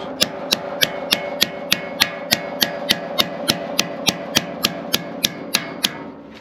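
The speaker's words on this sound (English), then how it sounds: "I'm going to tap it down." Steady series of about twenty sharp hammer taps on a sheet metal roof panel clamped in a brake, evenly spaced and close, ringing over a low hum, with no voices.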